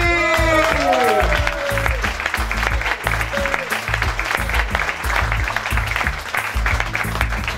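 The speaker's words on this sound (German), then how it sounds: "Meine Damen und Herren, einen ganz, ganz großen Applaus für Peter Nogli!" Crowd at a football public viewing applauding a former Hamburger SV player, with steady clapping and cheering throughout, some whistling near the start, while an announcer's amplified voice speaks over it.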